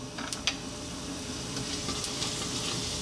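Dried red chili and cumin seeds sizzle steadily in hot sunflower oil, a close, even frying hiss with a few sharp pops and crackles, no voices.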